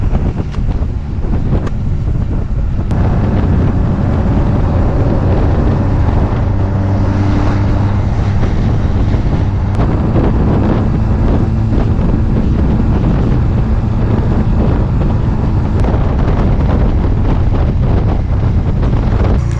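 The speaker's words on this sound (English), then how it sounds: "So back there it was pretty windy, but even while it was harshly blowing and everything" Strong wind roars and buffets continuously across the microphone while riding a Honda CMX-250 motorcycle, a dense rushing noise with a low engine drone underneath, like riding at speed.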